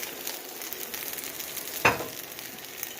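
Birria taco frying in oil in a pan, a steady soft sizzle with a brief louder crackle or pop partway through, close and alone.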